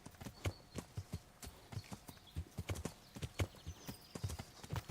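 Quiet, rhythmic clip-clop of horse hooves in the video game Kingdom Come: Deliverance, evenly paced footfalls continuing throughout with no talking.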